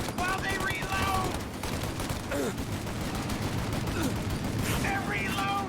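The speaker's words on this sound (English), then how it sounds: "Shoot out their gun when there's a break in the fire!" Sustained gunfire rattles through a shootout in Mafia: Definitive Edition, with dense overlapping bursts and shouted voices breaking in between volleys.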